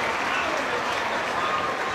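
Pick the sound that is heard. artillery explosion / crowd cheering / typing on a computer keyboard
crowd cheering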